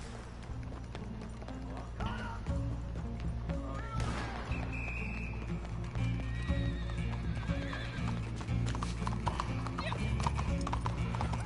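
Horse hooves clip-clopping steadily, with a whinny, in the video game Red Dead Redemption 2, heard beneath game ambience with a person talking over it.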